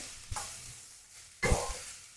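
Vegetables stir frying in a pan for beef fajitas, seasoned with garlic, chili and fajita powder: a quiet steady sizzle with two louder bursts of stirring and scraping, the second one stronger.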